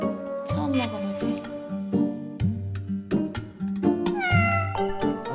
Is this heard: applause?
no